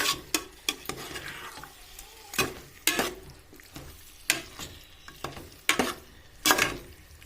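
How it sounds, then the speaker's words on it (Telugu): Chicken curry is mixed and cooked in a pan, with repeated loud scraping strokes and clanks of a spoon against the pan over a low background sizzle, in an irregular rhythm. "చికెన్ బాగా కలుపుకొని ఆల్రెడీ పసుపు ఉప్పు వేసుకున్నాం కదా"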